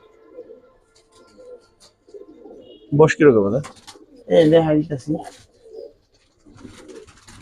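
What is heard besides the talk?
pigeons cooing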